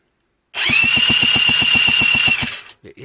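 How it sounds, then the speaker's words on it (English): A Honda NH80 Vision scooter engine being turned over without firing makes a steady, loud, close mechanical whir with a rapid, even cranking pulse for about two seconds, then cuts off. "let's turn the engine over, sorry, not fire it"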